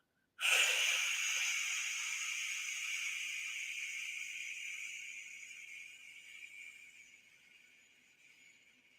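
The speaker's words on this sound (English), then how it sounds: "Open your mouth and with control, exhaust all the air from inside of you out" A single long exhale through the mouth, breathy and close, starting strong and slowly fading over several seconds.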